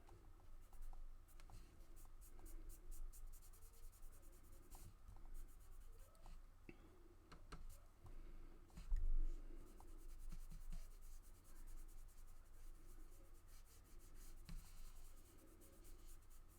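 Pencil shading skin tones on paper, a soft continuous scratching and rubbing of graphite and coloured pencil strokes, steady and close, with a brief louder bump partway through and no talking.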